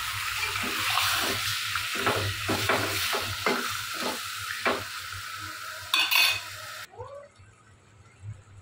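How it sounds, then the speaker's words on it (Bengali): Chicken pieces frying in a pan for chicken curry, being stirred with a spoon: steady close sizzle broken by repeated scraping strokes, a brief clatter near the end, then quieter hiss. "এখন আমি চিকেনটা দিয়ে দিচ্ছি।"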